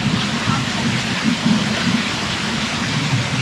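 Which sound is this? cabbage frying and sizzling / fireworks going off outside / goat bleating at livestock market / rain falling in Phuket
rain falling in Phuket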